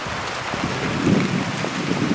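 Steady rain hisses loudly and continuously, a dense wash of falling water with no voices.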